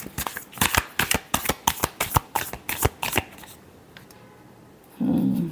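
Tarot cards being shuffled by hand, a rapid run of crisp riffling snaps in quick rhythm for about three seconds, then a quiet pause and a final soft burst of card rustle, close up.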